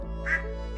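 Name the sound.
duck quacking in the video game Stardew Valley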